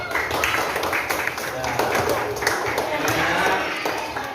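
A classroom of schoolchildren claps together, a steady patter of many small hands at close range that runs the whole time, with voices mixed in over it.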